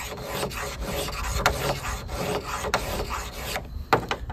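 The spine of a Mora Companion knife is dragged square against the coarse side of a sharpener, giving a steady run of gritty scraping strokes up close, with a sharp tick near the end.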